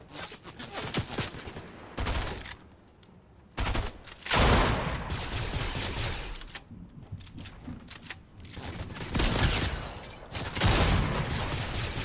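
Rapid bursts of automatic gunfire in the Fortnite video game crackle in dense volleys with short pauses between them, loud and close throughout, with no talking.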